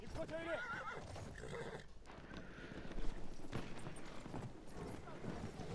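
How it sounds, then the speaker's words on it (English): Horse neighing in a video game, with whinnies early on and clip-clopping hooves over a steady game soundscape, while people talk over it. "There's another horse over here."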